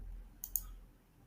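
A computer mouse clicks twice in quick succession, crisp and close, during online business card design work in a quiet room.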